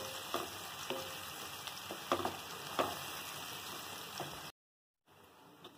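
Onions frying in a pan for dal dhokli, a steady close sizzle with occasional crackles and stirring clicks, briefly cutting out near the end before resuming.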